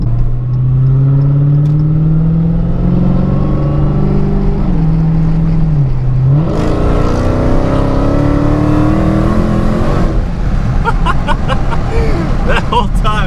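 A car accelerates hard with zero traction, its engine revving in rising sweeps as the tires spin, then a harsher roaring surge, loud and close with voices underneath.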